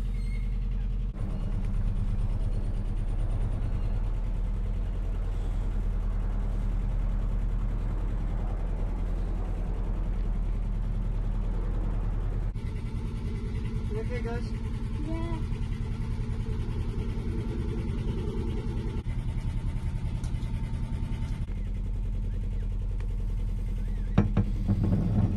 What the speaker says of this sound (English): I've just started up the engine